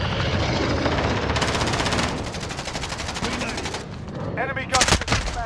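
Dense, sustained automatic gunfire from the game Call of Duty: Modern Warfare, with rapid bursts rattling over a constant battle din and a loud cluster of shots near the end.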